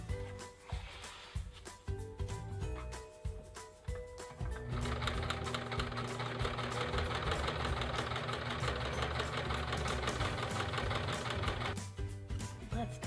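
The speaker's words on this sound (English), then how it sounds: "and then I'm going to sew it." Sewing machine stitching an 18th century corset, short stop-start bursts of running at first, then a long steady loud whirring run with rhythmic needle clatter before stopping.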